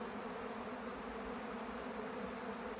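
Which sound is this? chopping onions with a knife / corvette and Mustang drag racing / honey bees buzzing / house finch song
honey bees buzzing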